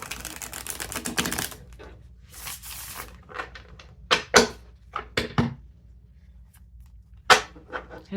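Tarot cards shuffled and drawn at close range: rapid riffling bursts at the start, then scattered crisp slaps and flicks as single cards are laid down, with quiet gaps between.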